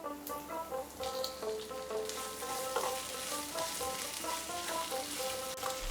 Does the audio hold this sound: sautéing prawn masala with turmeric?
yes